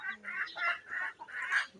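Fayoumi chickens cluck in a series of short, close bursts, several calls with brief pauses between them, heard alone without talk.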